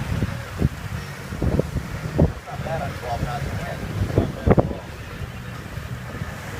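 A sailboat moving at over 8 knots in a 12-knot breeze, with steady wind rush and water noise throughout and people talking over it at intervals.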